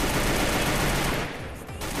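Sustained, loud video game gunfire rattles in a continuous dense burst, dipping briefly near the end before picking back up; little or no talking over it.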